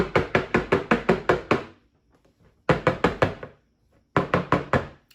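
Cake pans filled with lemon pound cake batter are rapped against a counter to knock out air, giving three runs of sharp, evenly spaced knocks with short pauses between, loud and close with no talking.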